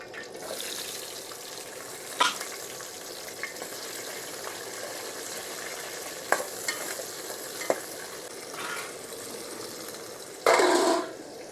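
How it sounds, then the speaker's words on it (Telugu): Onions and chillies frying in about four spoons of oil for a pork curry, a steady close sizzle with occasional stirring clinks and a short splash near the end. "ఒక నాలుగు స్పూన్ల దాకా ఆయిల్ తీసుకోండి ఉల్లిగడ్డలు మిరపకాయలు తీసిస్తానా"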